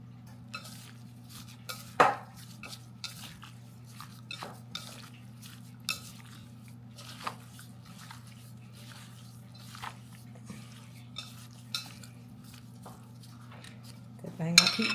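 A spoon or fork mixes salmon with cayenne, black pepper, garlic powder and Old Bay seasoning in a bowl, making soft, irregular scrapes and clinks with faint squishing over a low steady hum.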